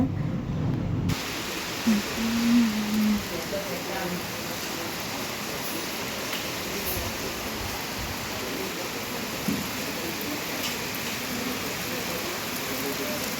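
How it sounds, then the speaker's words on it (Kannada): Steady heavy rain hisses across the whole stretch, a dense even wash of falling water with a brief tonal blip early on. "ಫುಲ್ ಜೋರಾಗಿ ಮಳೆ ಬರ್ತಾ ಇದೆ"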